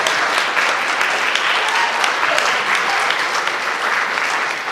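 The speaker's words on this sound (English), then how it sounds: "You can applaud if you want" Audience applause at a spiritual talk, loud and dense, sustained evenly throughout without any speech.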